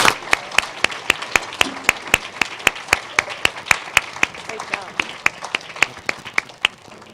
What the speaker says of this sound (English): Let's give the Freedom Middle School Orchestra and their guest soloists another round of applause.